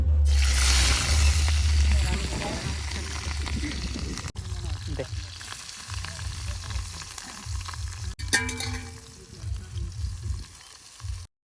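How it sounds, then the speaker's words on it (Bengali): Onions fry in hot oil in a wok, giving a loud, steady sizzle that settles a little over time, broken by a couple of sharp clicks and some stirring. "এখন এই যে কড়াইতে পেঁয়াজ দিয়ে দিয়েছি"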